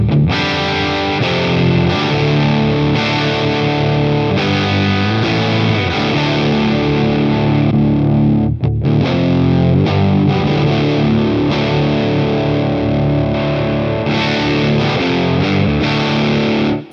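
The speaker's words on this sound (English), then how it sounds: "by hitting the buffer button and having it on, it brings back all your top end and all that sort of stuff." MXR 108 Classic Fuzz pedal with its buffer button on, giving a bright, thick, heavily fuzzed electric guitar that plays continuously and loud with sustained chords and riffs, no voices.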